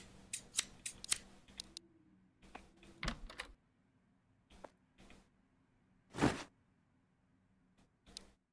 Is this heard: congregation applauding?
no